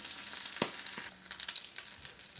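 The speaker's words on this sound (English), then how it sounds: "This piece of salmon is going to cook the majority of the time on the skin side" Salmon fillet frying skin side down in a hot pan, giving a steady close sizzle with a few brief sharper pops and crackles throughout, and no talking.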